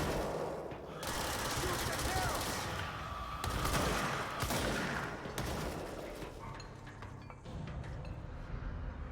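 Gunfire from the video game Control, a dense, continuous barrage of rapid shots with metallic clinks, sitting loud and steady throughout, with a voice faintly present under the shooting.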